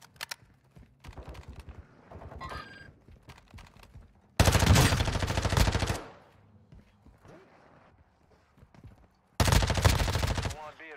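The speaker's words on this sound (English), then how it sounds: "You are taking effective fire." Bursts of gunfire in the Call of Duty DMZ video game, with two loud sustained volleys standing out against quieter scattered shots and clicks, spaced several seconds apart.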